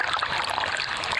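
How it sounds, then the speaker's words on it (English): Shades Creek, swollen by early morning rain, rushes downstream with a continuous close wash of flowing and splashing water. "Early morning rain had the waters of Shades Creek rushing downstream,"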